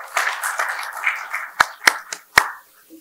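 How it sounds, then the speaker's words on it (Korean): A handful of seminar attendees at a university lecture clap to welcome a speaker, giving a short, sparse burst of close hand claps that quickly trails off. "우리 박수로 맞이해 주시기 바랍니다."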